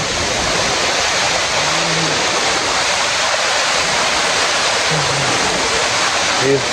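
Kiliyur waterfall pours in a loud, steady rushing roar that fills the whole scene without letup, with faint voices of visitors now and then beneath the water noise.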